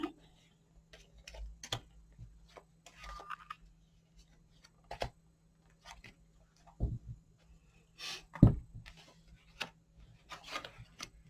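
A deck of tarot cards being cut and handled, with scattered soft rubbing and shuffling rustles and a few sharp taps of cards on a surface, all faint and close in a quiet room.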